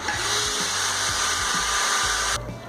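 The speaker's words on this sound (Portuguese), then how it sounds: "vamos furar daqui para lá para marcar" A power drill bores through a wooden slat for a large adjustable dog pen, a loud steady whine with rhythmic dips in motor pitch that stops abruptly near the end.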